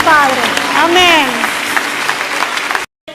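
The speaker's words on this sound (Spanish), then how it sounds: "Dale un aplauso fuerte al Señor" A church congregation claps loudly under a person's voice, with the applause holding for a few seconds before cutting off abruptly.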